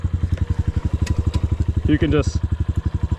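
A Honda CRF125FB dirt bike's small single-cylinder engine thumps in a steady, even pulse close by as it pulls away in second gear on a little throttle, with a voice speaking briefly over it.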